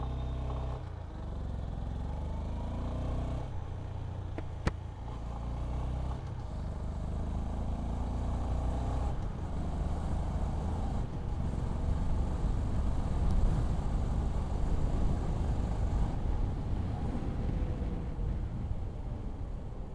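A 2025 Honda CB350 motorcycle on a test ride accelerates steadily, its mid-pitched engine drone building and holding loud and close under heavy wind rush, with no talking.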